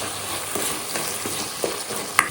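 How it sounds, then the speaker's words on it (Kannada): Vegetables for bisi bele bath fry in a pan with a soft, steady sizzle, punctuated by a few light stirring scrapes and a sharp clink near the end. "ಸ್ವಲ್ಪ ಫ್ರೈ ಮಾಡ್ಕೊಳ್ಳಿ. ತರಕಾರಿ ಸ್ವಲ್ಪ ಫ್ರೈ ಆದ ನಂತರ ರುಚಿಗೆ ತಕ್ಕಷ್ಟು ಉಪ್ಪನ್ನು ಹಾಕಿದ ನಂತರ ಚೆನ್ನಾಗಿ ಬಾಡಿಸ್ಕೊಳ್ಳಿ."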